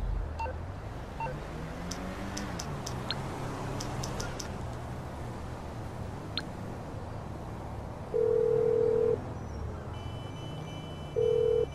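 Grand Theft Auto 5 phone call to order a cab: a string of short keypad beeps near the start, then two flat, steady ringback tones in the later seconds over a constant game background noise.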